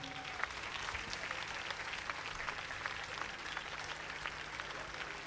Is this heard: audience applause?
yes